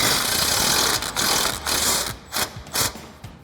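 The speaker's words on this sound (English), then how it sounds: "we're going to remove this bolt using our 15mm swivel socket and extension on our impact" Impact wrench taking off a sway bar end link bolt on a 2016-2024 Camaro with a 15mm swivel socket and extension, a loud steady buzzing whir broken by several short rattling bursts at the end.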